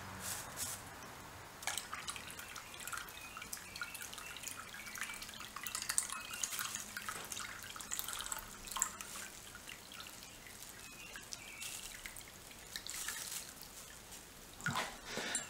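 Water poured into a container while working on a Triumph 500 Otter, a steady trickling and splashing with scattered drips, fairly quiet and continuous, no talk over it.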